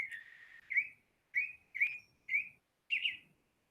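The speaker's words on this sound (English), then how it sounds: "you hear the bird?" A single small bird sings alone in a quiet outdoor setting, giving six or so clear, bright chirping phrases separated by short pauses, fairly close and moderately loud.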